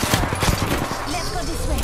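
Rapid bursts of automatic gunfire in the video game Apex Legends on PS4 crackle close and loud, with a voice speaking over the later shots.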